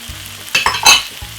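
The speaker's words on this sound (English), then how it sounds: "Give it a lovely stir." Tuna and mixed vegetables frying in a pan get a quick stir, a close sizzle with a couple of brief scraping strokes over a low hiss.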